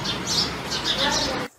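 Bright, repeated high chirps from a sparrow, fairly close, tumbling over one another with a low rumble beneath, then stopping abruptly.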